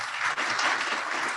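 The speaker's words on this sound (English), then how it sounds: "If we could give a round of applause for our sponsors." A brief burst of audience applause at a chamber of commerce membership luncheon, dense clapping at a steady level.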